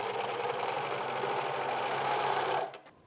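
A sewing machine stitching an ironing board cover runs in one steady, close whirring burst for about two and a half seconds, then stops abruptly.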